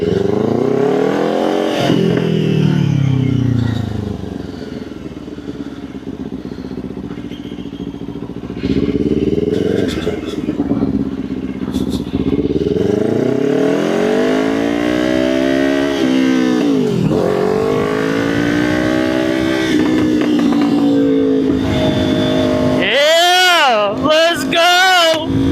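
A motorcycle's exhaust roars through repeated revs and accelerations on a cruise through desert scenery, loud and close with rising and falling pitch sweeps, brief quieter gaps and a burst of sharp revs near the end.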